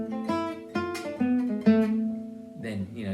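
A short gypsy jazz acoustic guitar ending lick, a few picked notes ringing out clearly over a sustained chord, close and moderately loud, with no talking.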